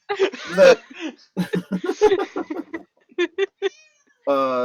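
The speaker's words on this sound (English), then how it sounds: "Fucking cat." Several short bursts of a cat meowing come among people talking and chuckling, ending with one clear, drawn-out meow close by.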